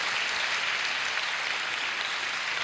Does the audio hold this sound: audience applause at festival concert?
yes